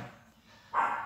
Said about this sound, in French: Désolé pour le chien, il y a l'orage.